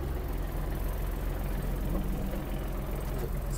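A Kubota GL-320 Japanese mini tractor engine idles at lowered revs, a steady, close, low-pitched chugging drone that holds unchanged from start to finish.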